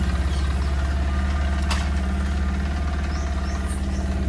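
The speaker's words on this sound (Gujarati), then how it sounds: "સેન્સરવાળું બાઇક છે ને ગાઈસ સેન્સરવાળું બાઇક લીધું" A sensor-equipped motorcycle engine idles steadily and close by, a continuous low rumble with a faint knocking pulse, alone without voices.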